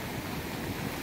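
Sea waves wash onto the beach at Bakkhali, a dense, continuous roar of surf with wind buffeting the microphone, heard up close for a brief moment.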